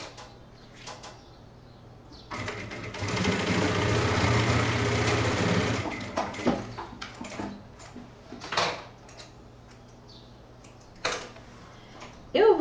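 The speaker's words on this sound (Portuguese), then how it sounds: "Passa uma costura de 1 centímetro." A sewing machine runs a 1 cm seam on a backpack in one steady whirring burst of about three seconds, then stops, leaving quiet handling clicks and soft knocks nearby.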